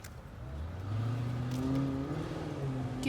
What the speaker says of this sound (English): I'll go warm up the car.